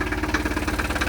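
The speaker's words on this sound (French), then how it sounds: "Vous allez entendre le moteur du Progress." A Casalini Kerry microcar's Progress engine idles nearby with a steady, rapid, slightly knocking throb and a buzzy vibration.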